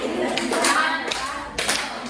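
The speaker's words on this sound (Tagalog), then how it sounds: "bigyan natin ng 3 palakpak si Annalyn" A class of students claps together for a classmate during a teaching demonstration, three or so loud close bursts of clapping in a classroom.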